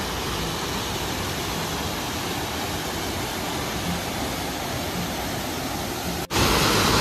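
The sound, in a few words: Borhill waterfall in Meghalaya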